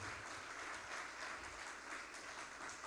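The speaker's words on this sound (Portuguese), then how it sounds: "Você pode dar um forte aplauso ao nosso Deus?" Congregation in a church service breaking into sustained applause, a dense wash of many hands clapping steadily at moderate loudness with no talk over it.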